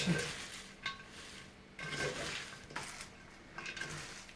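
A spoon scrapes and stirs through shredded cabbage for sauerkraut in a metal pot, in several separate bursts with short pauses between them, close and moderately quiet.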